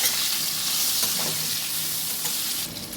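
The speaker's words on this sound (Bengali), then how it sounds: "আলুর মধ্যে লবণ দেব, হলুদ দেব, দিয়ে ভালো করে আলুগুলো কষিয়ে নেব" Potatoes with salt and turmeric frying in hot oil for aloo dum, a loud dense sizzle with a few scraping stirs of a spatula, close and continuous before easing slightly at the end.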